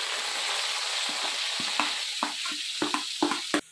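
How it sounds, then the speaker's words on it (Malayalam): Chopped onions fry in the same oil used to fry chicken for biryani masala, a steady sizzle broken by several short clanks and scrapes of a stirring spoon against the pan. "സവാള അരിഞ്ഞത് ചേർത്ത് കൊടുക്കുക."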